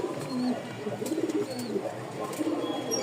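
A Rajshahi Giribaz flying pigeon, a female among mixed-colour birds, coos in a few soft rolling phrases close by, with light chirps and rustle behind.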